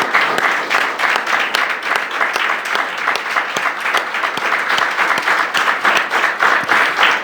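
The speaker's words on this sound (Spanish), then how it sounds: "me da ganas de dar un aplauso al Señor y bendecir su nombre" A church congregation applauds steadily, a dense, continuous wash of many hands clapping from start to finish with no voices standing out.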